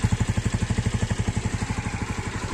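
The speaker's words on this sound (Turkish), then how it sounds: "Motorun sesi bu arkadaşlar. Yani fazla bir sesi yok, soluğu yok." A Honda CBR 125 motorcycle engine runs steadily nearby with a quick, even pulsing beat, fairly soft and mellow in tone, with nothing else heard.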